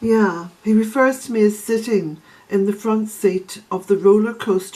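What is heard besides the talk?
None of the usual background noises is heard.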